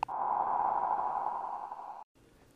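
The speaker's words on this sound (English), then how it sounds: "Here I have a sine oscillator fed into an ADSR, which then goes into a reverb on into the DAC." A short sine oscillator tone shaped by an ADSR envelope and sent through reverb in ChucK, a steady clean pitch held for about two seconds, then cut off, leaving a faint reverb tail.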